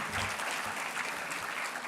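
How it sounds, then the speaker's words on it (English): Audience applause at an honors ceremony, a steady wash of clapping from a seated crowd that holds evenly throughout, moderately distant. "Lightbourne another round of applause."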